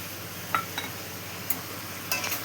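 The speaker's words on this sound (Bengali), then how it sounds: "এটা নাড়াচাড়া করে নিলাম" Chickpeas, coconut and ridge gourd are stirred in a pan, with a faint steady sizzle and a few soft, brief scrapes and taps of the spoon.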